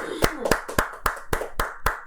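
A church congregation at a New Year's Eve service claps in unison, eight crisp, evenly spaced claps close by, with a voice speaking faintly underneath.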